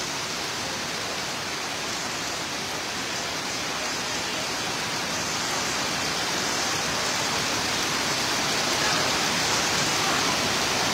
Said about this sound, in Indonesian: Hujan lebat mula membasahi.